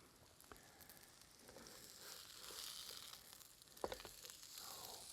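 Potato pancakes frying in a pan and being flipped, with a quiet steady sizzle and a soft crackle that swells midway, then a single sharp knock of the flip near the end.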